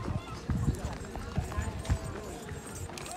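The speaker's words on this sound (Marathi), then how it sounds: "मित्रांनो बघू शकता सूर्या बैल चाललेले आहे शर्तीसाठी" Hooves of a bullock walking to a bullock-cart race at Kasgaon thud and clop in an irregular rhythm on the ground, close by, with people talking over them throughout.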